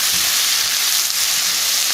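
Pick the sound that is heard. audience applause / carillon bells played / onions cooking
onions cooking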